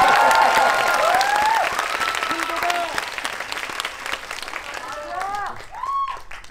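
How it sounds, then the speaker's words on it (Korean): Applause from a movie-event audience at a screening of the Korean film Hunt, steady clapping that eases slightly over time while voices and whistle-like tones rise over it. "뭐야 박수가 작잖아"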